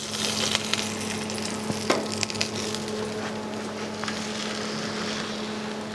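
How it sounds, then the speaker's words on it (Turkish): Mullet fillet frying in a pan, a steady close sizzle with occasional crackles and faint utensil sounds, no voices. "Balığımızın diğer tarafında yeterince kızarttık."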